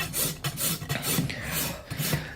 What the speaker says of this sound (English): Rasping is the hardest part of this job, in my opinion.